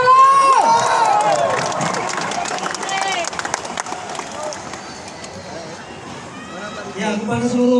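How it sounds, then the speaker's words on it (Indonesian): Audience at a Batak youth organisation's fourth anniversary gathering cheers and claps, with shouts and crowd babble rising over scattered applause. The noise is loud at first, eases in the middle and swells again toward the end. "Kasih tepuk tangan dulu"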